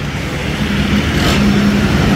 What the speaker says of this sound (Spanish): Así está el tráfico a esta hora de día martes